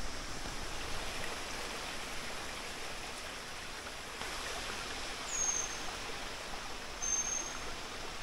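A shallow, low-running river flows gently beside a rest stop in a mountain valley near Cidahu, a steady, even wash of water that stays soft and continuous, heard alone.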